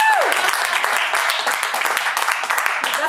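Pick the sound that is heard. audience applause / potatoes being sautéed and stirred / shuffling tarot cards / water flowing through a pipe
audience applause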